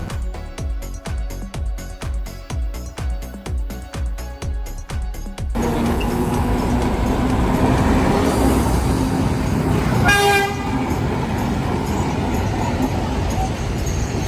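Street tram in Alexandria, Egypt, with a loud rhythmic rattling and clanking at first, then steady street rumble and a short bright horn toot, with faint talk in the background.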